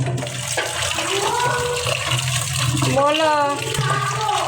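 Tap water runs steadily and fairly close while beef is washed in a home kitchen, with splashing and shifting pitch as hands work the meat under the stream, and a voice speaks briefly.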